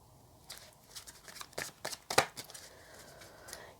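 Tarot cards being shuffled up close, a run of soft riffling flicks and slaps at an uneven pace, quiet between bursts, with no one speaking.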